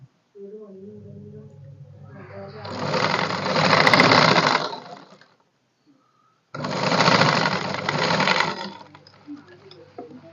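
A sewing machine stitches a shirt shoulder piece in two long, close runs with a pause between, its steady whirring rising and falling in speed, preceded by a voice talking.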